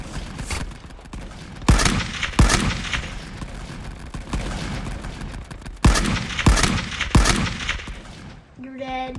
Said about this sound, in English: look at that minigun shooting me, bro